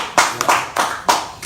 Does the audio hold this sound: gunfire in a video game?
no